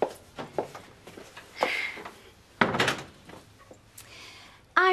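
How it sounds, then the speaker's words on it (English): A door swings shut inside an office, giving a clear close-range thunk near the end, after scattered movement and brief voices earlier. "Close the door, Shell."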